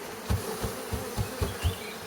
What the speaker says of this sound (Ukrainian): Ну і бджола з пастки.